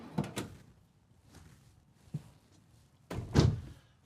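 Soft-close pull-out drawers in a 2023 Renegade Valencia 38RB RV sliding shut: a few soft thuds and rolling slides, then a louder closing run near the end, with no talk.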